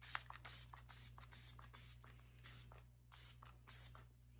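Repeated short hissing bursts of a lavender hair-setting spray can, about eight quick pumps in an uneven rhythm, close by with faint rustling between them.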